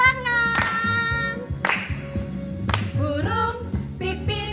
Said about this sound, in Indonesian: Yuk semuanya tepuk tangan.